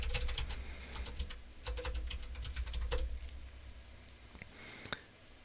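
Someone types a command on a computer keyboard at close range, rapid bursts of clicky keystrokes with short pauses and a final few taps, over faint room hum.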